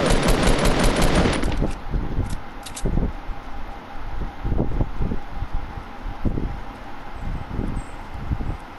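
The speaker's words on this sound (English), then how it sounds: "Use an assault rifle" Assault rifle fire in a shooter game: a sustained loud burst at first, then scattered short bursts and single shots over a windy, breezy background, no talking.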